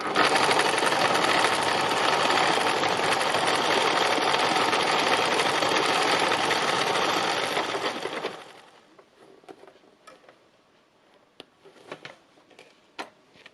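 A sewing machine stitching fabric for a seascape runs loud and close in a steady rattling whir, then stops abruptly, leaving faint scattered clicks and handling taps in near quiet.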